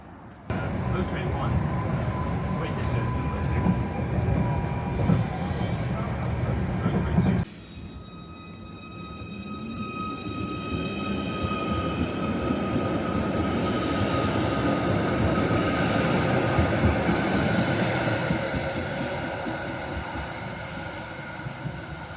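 Merseyrail train running toward Maghull, a steady rumbling roar of wheels and motors that shifts abruptly partway through into a smoother, rising hum with faint whining tones, loud and close throughout.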